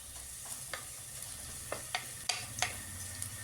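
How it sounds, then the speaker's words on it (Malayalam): A soft, steady sizzle of ginger and garlic sautéing in a pan, with occasional sharp clicks and taps of a spoon stirring, fairly quiet and close. "ഇഞ്ചി വെളുത്തുള്ളി ഇട്ടതിന് ശേഷം നല്ലപോലെ ഇത് വറുത്തെടുക്കുക കേട്ടോ നല്ലപോലെ വഴറ്റണം"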